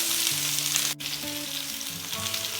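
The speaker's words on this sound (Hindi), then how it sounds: "एक पैन गर्म करेंगे और उसमें डालेंगे 2 टेबलस्पून ऑयल। जब ऑयल गर्म हो जाए तो उसमें डालेंगे प्याज" Chopped onions hit hot oil in a pan, giving a dense, continuous sizzle with faint stirring clinks, close and fairly loud, with no talking.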